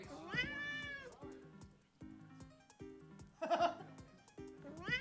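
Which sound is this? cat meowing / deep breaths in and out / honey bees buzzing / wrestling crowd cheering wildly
cat meowing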